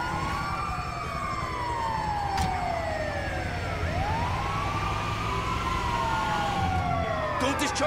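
An ambulance siren in the video game GTA 5 wails in long sweeping rises and falls over constant engine rumble and street noise, loud and close throughout.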